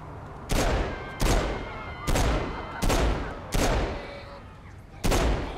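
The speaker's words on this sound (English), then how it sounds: "Who's shooting from down there?" Repeated gunfire in the video game Saints Row 4: six loud, sharp blasts at fairly even intervals of about a second, each ringing out with a decaying tail.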